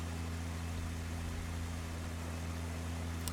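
A tractor engine in the farming game Pure Farming 2018 produces a quiet, unbroken low droning hum, even and steady with a hiss over it and no other sounds.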